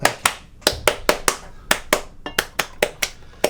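A single person claps hands sharply at the start of a podcast recording, about fifteen crisp, close claps in an uneven rhythm with brief gaps between them and no other sound.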